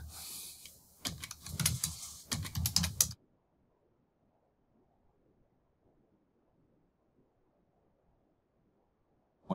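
Quick burst of typing on a computer keyboard while writing a message to a student in Microsoft Teams, a dense run of close keystroke clicks lasting about three seconds, then near silence.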